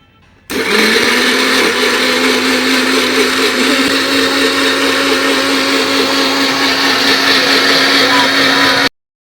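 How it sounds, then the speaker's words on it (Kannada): A kitchen mixer grinder whirs loudly and steadily for about eight seconds while blending juice, starting and stopping abruptly with no talk over it. "ಈ ಬಂದಿರೋ ಮಿಕ್ಸಿಯಲ್ಲಿ ಜ್ಯೂಸ್ ರೆಡಿ ಮಾಡ್ಕೊಂಡು ಕುಡಿತಾ ಇದ್ದಾರೆ"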